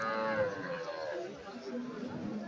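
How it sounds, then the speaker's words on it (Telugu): Cattle low at a Sunday cow market in Chintamani, with moos rising over steady crowd chatter and market bustle throughout. "ఆవు నాటి ఆవు."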